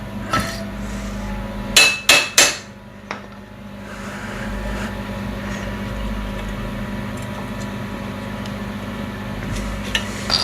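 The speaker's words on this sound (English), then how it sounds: "Where's that hammer at?" Three sharp hammer strikes ring out close together on metal, then one lighter tap, followed by a steady mechanical hum with faint clanks, while working on a seized brake line of a Honda TRX350D ATV.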